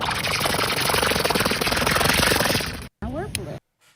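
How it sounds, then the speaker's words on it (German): A firework gives a loud, steady whirring buzz with a fast pulsing flutter like helicopter rotors, running for nearly three seconds before cutting off, followed by brief chirping noise. "Und Scheiße, es hat Real Talk tönt wie ein Helikopter."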